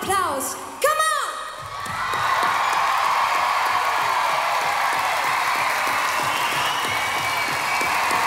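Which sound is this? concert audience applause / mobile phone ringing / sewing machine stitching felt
concert audience applause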